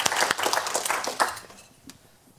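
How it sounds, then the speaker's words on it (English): An audience applauds a speaker at a leadership storytelling event, with a burst of dense clapping that thins out and fades toward the end. "Please, everyone, give a round of applause for Alpha."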